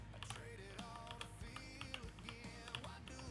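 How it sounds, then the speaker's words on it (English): Fingers type on a computer keyboard with quick, irregular, faint taps and clicks, mixed with a tonal background sound. "I'm typing without looking at my keyboard."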